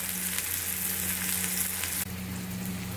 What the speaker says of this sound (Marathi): आता आपण गॅस बारीक करून हे सगळं कांदा आणि टोमॅटो थोडं शिजवून घेऊया